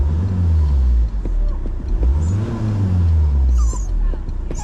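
Peugeot RCZ HDI diesel engine fitted with a homemade cold air intake, revving in repeated rising and falling swells up close, loud throughout, with someone talking over it.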